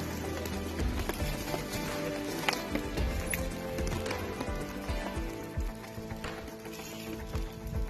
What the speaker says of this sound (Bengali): তো সাদা সাদা সাদা সাদা ভর্তি হয়ে যাচ্ছে শিলাবৃষ্টি।